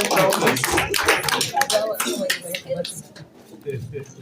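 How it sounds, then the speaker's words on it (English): A crowd claps for the top-ranked county at a Kenyan county ranking report event. The claps are scattered and uneven, mixed with someone talking over them and some tapping. "Please clap for number 1 overall county."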